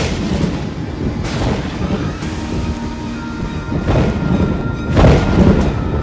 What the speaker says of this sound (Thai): เฮ้ยเดี๋ยวเดี๋ยวเดี๋ยวใครจุดระเบิดเดี๋ยว